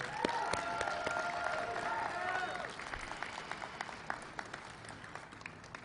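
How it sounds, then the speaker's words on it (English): A crowd at a union rally for Kellogg workers in Battle Creek gives a round of applause that starts loud with a tonal tone or whistle over the clapping, then thins to scattered claps as a voice speaks. "Give yourselves a round of applause, please."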